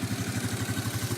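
A carbureted Arctic Cat 250 4x4 ATV engine runs close by with a quick, even chugging pulse, a short, steady burst of low mechanical throb.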